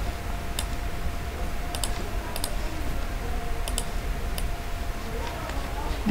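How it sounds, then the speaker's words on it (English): Sparse, crisp key clicks from a computer keyboard, struck while working in rendering software, land in small scattered clusters over a steady low background hum. "or you can either click on paint icon or type in PT on your keyboard to activate it"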